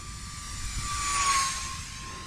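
E-flite UMX B-2 Stealth RC flying wing making a full-throttle pass, a steady electric whine that swells as it goes by and then eases, moderately distant, with no talk.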